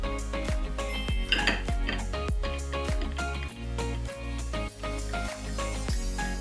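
Freshly made caramel being emptied into a bowl in a kitchen, with repeated sharp clinks and knocks of utensils against dishes over a steady background hum.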